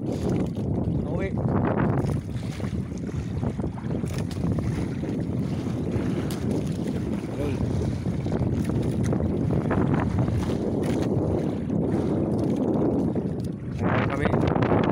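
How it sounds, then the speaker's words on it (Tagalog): A boat rolls through big waves far out at sea near Mandu Island, with strong wind buffeting the microphone and water rushing and splashing throughout. "malaki-laki na yung alon."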